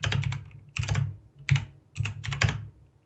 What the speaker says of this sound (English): It's the Scara keyboard.